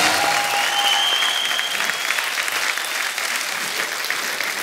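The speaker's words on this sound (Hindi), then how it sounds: "एक बार जोरदार तालियां हो जाए चौबे साहब के लिए।" Loud, sustained applause from a studio audience at a Hindi comedy talk show, a dense steady wash of clapping lasting several seconds with a faint crowd murmur beneath.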